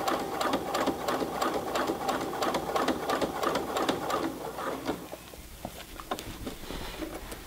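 A Brother PC 420 sewing machine stitches a jeans hem over a thick seam with a long stitch, a fast, steady rhythmic clatter that runs loud and continuous before slowing and thinning out near the end.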